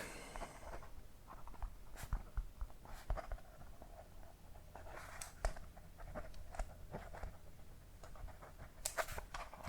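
A pen scratches across paper in close ASMR-style recording, with quiet irregular strokes and taps continuing throughout, no talking.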